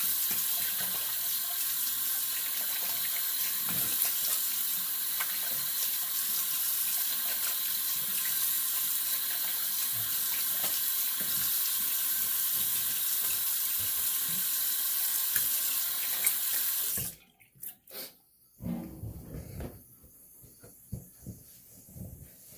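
Tap water runs steadily into a sink as a razor is rinsed, a close, constant hiss that stops abruptly near the end, followed by a few faint handling knocks.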